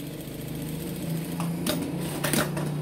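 A sewing machine stitching two pieces of fabric together, a close rapid mechanical chatter that runs steadily and picks up a little, with a few sharp clicks partway through.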